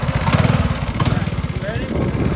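Small engine on an original Tony Kart running and revving on throttle, a loud close rapid putter that surges and wavers across the short clip, with voices talking over it.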